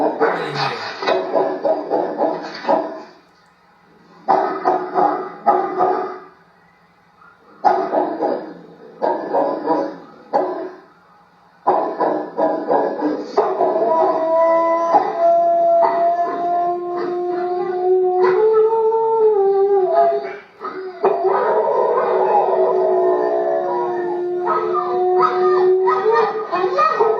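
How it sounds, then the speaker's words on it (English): A dog barks in loud, rhythmic bursts separated by brief silences, then breaks into a long, wavering howl with whimpering yips, close and dominant. "Watch, concentrate on the dog right here."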